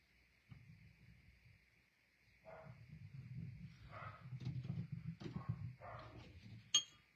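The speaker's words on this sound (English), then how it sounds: "Dogs barking like crazy." Dogs bark from upstairs in a house, a muffled and fairly distant run of repeated barks in irregular bursts with a few clinks and soft whimpers mixed in, quiet overall.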